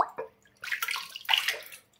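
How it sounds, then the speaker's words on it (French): Black powder gun parts rinsed under running water, two short splashy bursts of flowing water with a few drips between, close and fairly quiet. "Donc, pareil, je rince."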